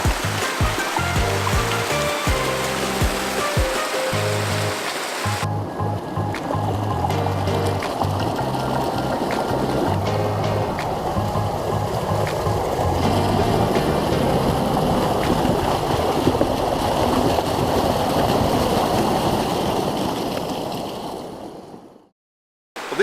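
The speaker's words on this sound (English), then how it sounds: "we've reached this amazing waterfall here" A small waterfall in Coyote Gulch that has carved holes into the rock pours with a steady, continuous rushing wash of water, close by and unbroken throughout.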